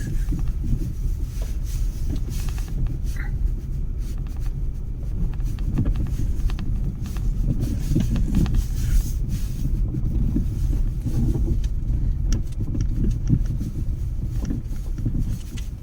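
A car rolling toward a parking lot at night, a steady low engine and road rumble with wind buffeting throughout, no talking.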